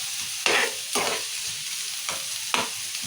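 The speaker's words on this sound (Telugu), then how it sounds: "నూనెనే మంచిగా వేయించుకోవాలి ఉల్లిగడ్డ." Onion and red chillies fry in oil, a continuous close sizzle broken by four stirring scrapes at uneven intervals.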